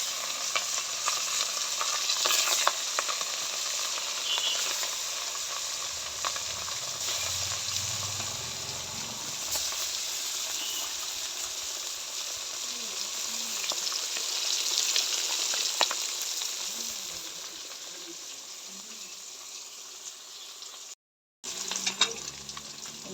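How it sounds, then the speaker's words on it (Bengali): Rohu fish pieces frying in hot oil in a pan, a steady loud crackling sizzle that runs on without a break, close up, with occasional soft spatters and a brief drop-out near the end; no voices. "মাছগুলো ভাইজা নিব।"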